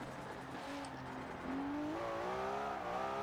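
A Nissan 300ZX engine drones with rising pitch and squealing tires, steady and loud, drifting in Forza Horizon 4.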